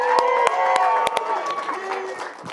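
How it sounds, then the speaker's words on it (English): A comedy-show crowd claps and cheers for comedian Gene Moore, with scattered sharp claps and whoops while a voice talks over the noise, which gradually eases off. "Now, clap it up for Gene Moore, baby."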